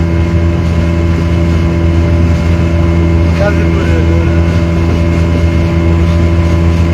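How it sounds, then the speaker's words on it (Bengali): A speedboat runs along a river out of Kazipur, bound for Natuapara in Sirajganj. Its motor drones loudly and steadily at close range with no break, along with constant water and hull noise. "কাজীপুর থেকে আমরা স্পিড বোর্ডে উঠেছি, আমরা যাচ্ছি এখন"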